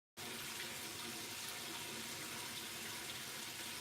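Water running steadily from a kitchen tap as something is rinsed under it, a constant bright splashing hiss that starts abruptly and continues unbroken, close and alone.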